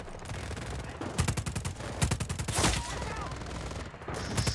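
Rapid bursts of automatic gunfire crackle in the action game Just Cause 4, several clustered volleys of sharp repeated shots, loud and close.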